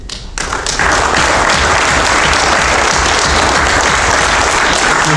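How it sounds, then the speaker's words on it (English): A crowd at a Boy Scout troop's Eagle Scout court of honor bursts into loud, sustained applause that swells within the first second and then holds at full strength. "let's start there with a round of applause"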